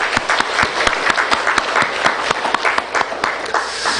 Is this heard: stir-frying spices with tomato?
no